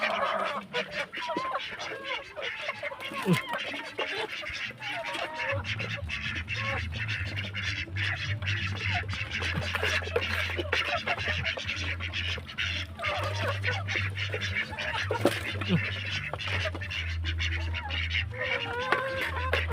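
A flock of ducks quacking and honking continuously over a steady low engine hum, with scattered splashing and pecking noises throughout.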